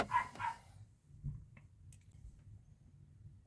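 A couple of short dog barks up front, then quiet room noise with a faint low rumble.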